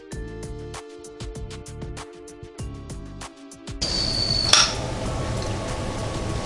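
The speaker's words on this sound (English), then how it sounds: "I'm going to open that pressure release now and then check temperature." Pressure valve on an Emeril Lagasse pressure air fryer cooking hot wings is opened for a quick release, then a loud continuous hiss of venting steam follows the earlier clicking, steady and close until the end.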